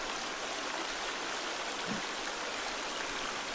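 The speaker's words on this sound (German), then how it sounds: "Alter, der Wasserfall ist so laut," Loud waterfall in The Forest survival game: a dense, steady broadband rush of falling water, constant and close throughout with no other sounds.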